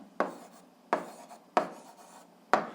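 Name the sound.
writing down a math answer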